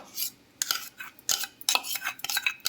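Mustard-ground yogurt is stirred into cooled yam curry, with repeated clinking and scraping of a spoon against the vessel in an uneven, busy rhythm.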